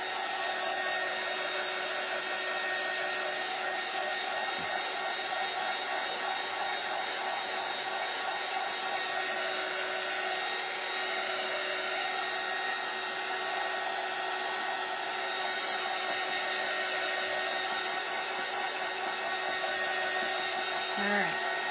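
A hair dryer blows steadily at close range, drying fresh paint on a Christmas door hanger, a constant whooshing motor hum that runs unchanged without a break for the whole stretch.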